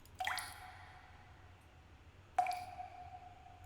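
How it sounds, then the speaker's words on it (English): Water dripping in a horror video game, two distinct drips about two seconds apart, each a sharp plop with a ringing tail, clear against a quiet background. "That dripping noise. I heard it while I was asleep."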